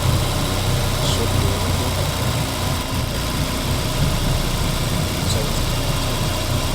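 Loud, steady drone of a car engine driving in a video game, continuous and close with no letup, while someone talks over it.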